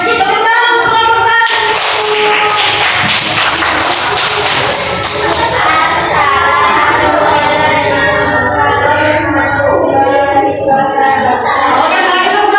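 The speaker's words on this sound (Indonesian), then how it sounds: "tepuk tangan untuk kelompok" Schoolchildren in an Indonesian classroom clap for the first group, a burst of loud, close applause mixed with excited voices and shouts that carries on under chatter.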